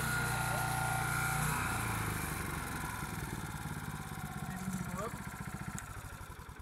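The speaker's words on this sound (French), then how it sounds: "lorsque vous lâchez tout, la machine s'arrête automatiquement, et là vous avez l'accélérateur, donc vous décélérez" OREC HR802 flail mower engine winding down from a steady drone, its pitch falling into a slowing, throbbing idle that loosens toward a stop, with someone talking over it.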